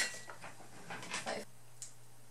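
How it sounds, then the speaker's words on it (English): A pet dog in a home makes a few short, faint barks and whimpers in the background, with long quiet gaps between them and no one speaking. "That's my doggy barking in the background."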